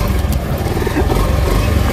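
Motorized tricycle engine running nearby, a steady low rumbling drone with clattery texture that holds throughout, loud and continuous, with faint background voices mixed in.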